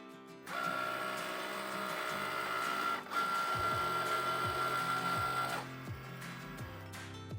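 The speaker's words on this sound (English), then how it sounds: "I'm going to cut them all out using my Cricut machine" A Cricut machine cuts scrap vinyl on a mat with a steady mechanical whir and a high motor whine, broken by brief pauses and repeated carriage movements. The sound is close and continuous, with no talking.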